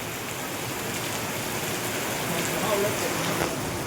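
Heavy rain pours down steadily outdoors during a cricket game, a dense unbroken hiss of drops striking surfaces that holds even and loud throughout, with no clear talk over it.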